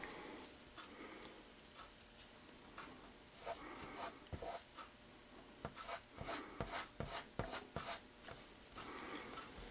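Peacock herl being stripped for fly tying, with a steady soft rubbing and rasping followed by clusters of quick scratchy strokes, close and quiet, with no talking.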